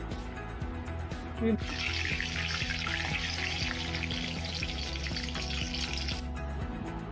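Green chillies dropped into hot oil for a tomato gravy curry set off a bright, hissing sizzle that holds for several seconds and then cuts off, over steady background music.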